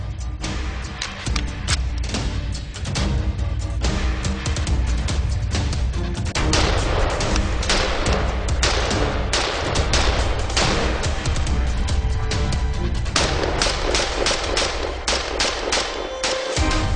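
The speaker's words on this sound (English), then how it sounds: "Well, let's do a little bit of shooting with it." Tavor and Steyr AUG bullpup rifles firing outdoors, a long loud series of sharp gunshots in quick irregular strings with brief pauses, each crack sharp and close, no talking over it.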